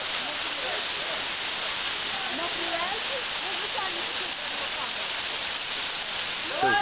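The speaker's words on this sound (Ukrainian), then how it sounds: "Оце водоспадик." A small mountain waterfall in the Marmarosy highlands rushes in a dense, steady hiss, close and continuous, while voices talk over it.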